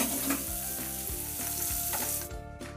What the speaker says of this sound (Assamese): আৰু এই তেলখিনি যেতিয়া ভালকৈ গৰম হৈছে তেতিয়া মই ইয়াতে নিমখ হালধি সানি ৰখা মাছকেইটুকুৰা দি দিছোঁ আৰু এই মাছখিনি এতিয়া ভালকৈ ভাজি ল'ব লাগিব।